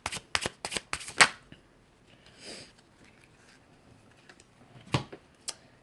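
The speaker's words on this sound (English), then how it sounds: "I'm going to get a couple cards from the Healing Star Submerged deck" Oracle cards from the Healing Star Submerged deck being shuffled and drawn, a quick run of crisp card riffles and snaps up close, then a soft slide and a couple of isolated flicks against a quiet room.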